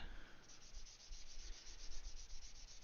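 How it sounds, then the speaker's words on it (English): Faint, even rasping of sandpaper on a plastic Gundam model kit part, repeated in a steady rhythm of light strokes, heard up close in an otherwise quiet room. "Never be aggressive with your sandpaper."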